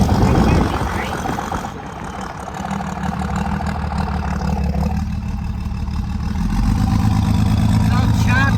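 Cummins VP44 diesel truck engine idling roughly with a choppy, uneven low rumble, heard close and steady throughout with some speech over it.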